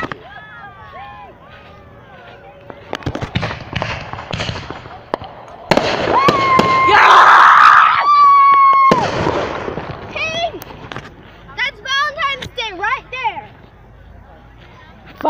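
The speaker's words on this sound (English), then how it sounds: "Because there's fireworks launching over there" Fourth of July fireworks launching in the distance pop and crackle in scattered bursts, with one long fizzing burst near the middle, while people nearby talk and shout excitedly over them.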